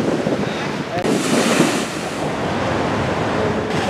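Strong wind roars and sea waves surge at the Ambalangoda fishing harbour, where moored multi-day fishing boats are battered by high winds; a loud, continuous blustery wash with no one speaking.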